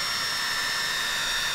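Dual cooling fans for an Arrma Senton RC truck spinning at full operating speed, giving a steady, loud, jet-like whine with a high-pitched hiss and no other sounds.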